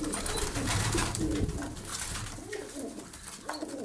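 Pigeons coo softly in low, throaty repeated calls amid a noisy outdoor background.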